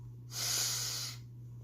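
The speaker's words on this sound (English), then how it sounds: "Why are you sniffing my hair?" A cat sniffs close at a person's hair, giving one soft, breathy snuffle of about a second against a faint steady hum.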